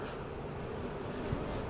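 Dense, steady hum of many honey bees at a hive during a swarm-split check, a continuous low buzzing that stays close and even throughout with no voices.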